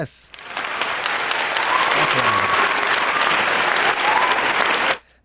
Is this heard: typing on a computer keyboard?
no